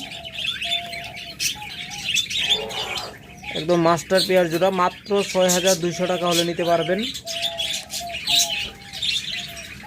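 Small caged pet birds such as lovebirds, budgerigars, Java sparrows or cockatiels give short repeated chirps and tweets throughout, while someone talks loudly over them for most of the stretch.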